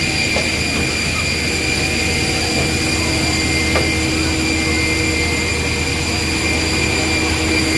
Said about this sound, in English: There's the engines.